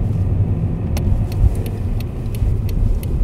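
A 2018 Toyota GT86 driven hard, its engine a loud, continuous low rumble heard close up from inside the car, with a few faint light clicks on top and no speech.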